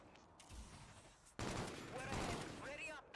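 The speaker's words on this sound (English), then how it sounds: "Just start shooting." Gunfire in a Call of Duty: Infinite Warfare Search and Destroy match: after a quieter stretch, a loud, dense burst of rapid shots suddenly erupts and continues steadily, with sharp mechanical weapon sounds layered through it.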